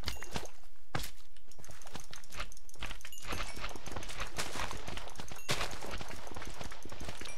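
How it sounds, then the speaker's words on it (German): Clip-clop hoof steps of a slimy horse in a modded Minecraft world, with a busy, noisy game soundscape layered around the repeated footfalls. "Oh, schleimiges Pferd."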